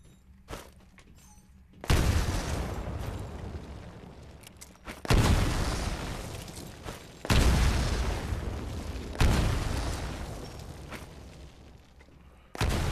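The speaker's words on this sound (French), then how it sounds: "Lancez une grenade à travers chaque fenêtre." Grenade blasts in a Titanfall training module, four heavy booming explosions spaced a few seconds apart, each hitting loud and then rumbling away before the next.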